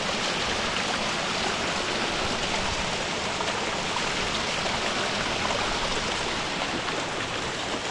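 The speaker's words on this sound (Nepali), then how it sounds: "यहाँ चाहिँ जति पनि पानी बगिरहेको छ नि" A clear stream flows steadily nearby, giving a constant broad rushing hiss that stays even throughout with no voices.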